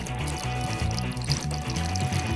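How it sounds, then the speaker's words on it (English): Oil and water poured into pasta dough for a giant food challenge, a soft liquid pour under steady background music. "Add oil and then water."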